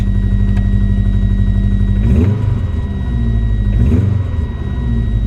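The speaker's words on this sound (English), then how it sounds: "start the car" A Subaru GC8 idles with a steady low mechanical drone while awaiting a knock sensor replacement, then gets two short blips of the throttle a couple of seconds apart before settling back to idle.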